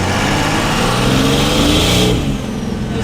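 A Cummins diesel-swapped Mustang roars loudly and steadily as it accelerates and builds boost, the engine note climbing before easing slightly near the end.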